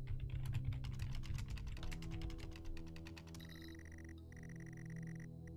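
Rapid clicking of keys on a computer keyboard in a horror game, a steady run of close keystrokes over a low ambient drone with tonal game sounds rising near the end.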